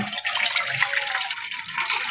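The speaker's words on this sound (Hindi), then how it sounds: "एक खुले बर्तन में पानी डालेंगे।" Water pours steadily into an open container of the kind used to soak a potted plant's seeds from below, a close, continuous bright splashing stream with no voices.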